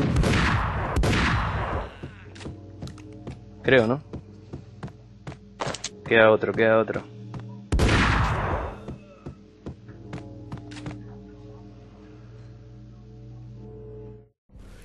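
Gunshots and shotgun blasts from the video game Max Payne, a series of sharp loud reports with bursts of rapid fire between them over a low game soundtrack, while someone talks over the action.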